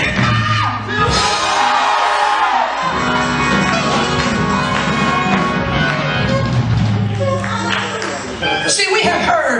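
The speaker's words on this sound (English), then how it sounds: "Just one more time, yell, timber!" Church congregation shouting and yelling together during a sermon, a loud sustained crowd roar with whoops and bursts of laughter, near and continuous throughout.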